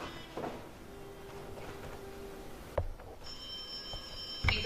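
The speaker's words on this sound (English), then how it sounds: "Come on, Jill, pick up the phone, please pick up." Old-fashioned telephone ringing indoors, faint bell-like rings heard alone at moderate distance with a couple of clicks and a brief clatter near the end.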